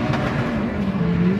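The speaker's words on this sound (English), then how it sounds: "A lot of throttle, handbrake drag." A drift car at a 2024 Drift Indy competition run accelerates hard under heavy throttle with the handbrake dragging, a continuous loud, rising engine roar with no talk.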